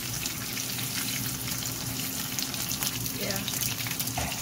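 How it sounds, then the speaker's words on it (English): Green beans and salmon fry steadily in a pan, a continuous dense sizzle throughout with occasional stirring scrapes and a brief spoken word. "I'm not going to fry it too long."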